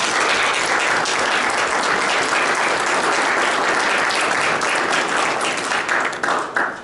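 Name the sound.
audience applause welcoming speaker Peggy Stevens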